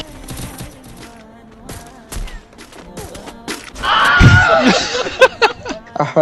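Sniper rifle shots in a mobile shooter video game, a few sharp isolated cracks followed by a burst of louder combat noise, with no clear talk.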